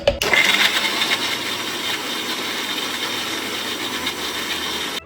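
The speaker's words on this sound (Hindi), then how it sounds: "चलिए अब इनको ग्राइंड करते हैं।" A mixer grinder runs hard on spinach, soaked cashews and green chillies, a loud, steady whirring drone that starts abruptly and keeps going without a break until it cuts off at the end.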